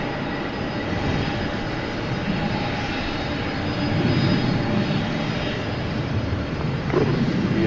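A steady broadband rumble and whine from an MD-11 jet taxiing past at DFW Airport, constant and moderately loud, swelling slightly as it passes, with no talk.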